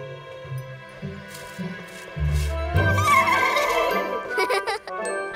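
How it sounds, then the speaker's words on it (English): Cartoon horses whinny and neigh in short bursts, a few high whickering calls layered over light background music and effects, with no speech. "I didn't think it'll take you long to smell this, Sky Horsies."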